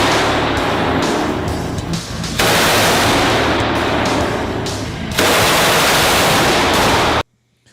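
Machine guns such as an M249 SAW and a Browning .50 fire long, loud automatic bursts at close range, with a short break between bursts before the firing cuts off abruptly.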